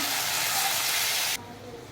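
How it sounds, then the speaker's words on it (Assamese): Chicken frying in a pan, a steady loud broadband sizzle that drops abruptly to a quieter hiss near the end. "চিকেনখিনি মই অকণমান সময় ভাজি থাকিম, ভাজি ভাজি ৰঙচুৱা কৰিম।"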